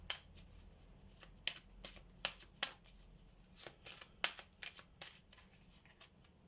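Oracle cards are shuffled by hand in a series of soft, crisp riffles and flicks, irregularly spaced, close and quiet with no talking.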